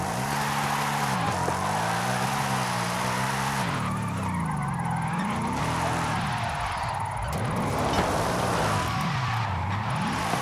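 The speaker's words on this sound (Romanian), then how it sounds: "cum faci un spin și parcă roțile se învârt în gol și mașina abia dacă accelerează" Ford Mustang Dark Horse in a racing video game spinning its wheels, a loud continuous engine drone with rising and falling revs and tire squeal throughout, with no voices.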